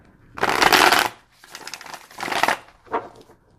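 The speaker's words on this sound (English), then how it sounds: "It shuffles like nobody's business." Several quick riffle shuffles of a new AGM deck of playing cards, close and crisp, each a short papery flutter with brief pauses between.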